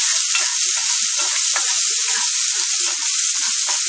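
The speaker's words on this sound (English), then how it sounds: "we'll add our oil, and we'll go ahead and add our onions and garlic" Onions and garlic fry in hot oil in a pan while being stirred, giving a steady, loud, close sizzle with occasional scraping clicks from the stirring and no talking.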